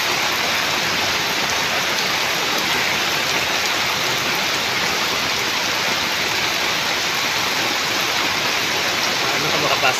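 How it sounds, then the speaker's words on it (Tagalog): Typhoon floodwater flows through a flooded street, a dense, continuous rushing wash like a stream or heavy rain, steady and close throughout. "Ayan o, grabing baha"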